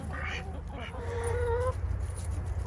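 A duck honks and quacks near its pen, a few short nasal calls clustered at the start and middle over a steady low hum of background noise.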